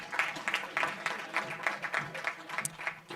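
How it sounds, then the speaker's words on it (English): An audience applauds at a memorial lecture, with faint, distant clapping in a steady patter of repeated bursts throughout. "Now let's give COSATU another round of applause."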